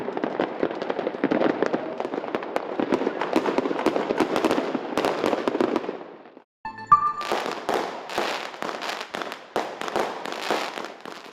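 Dense, rapid crackling and popping of New Year's fireworks at a care centre in Middelburg goes off continuously, pauses briefly, then resumes with loud bangs and a fizzing burst of crackles.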